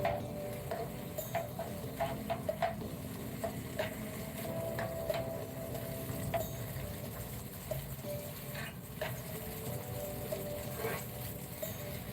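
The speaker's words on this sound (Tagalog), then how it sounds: "Add the onion and fry for a minute." Onion frying in a pan, a steady soft sizzle with scattered clicks of stirring, fairly quiet and uninterrupted.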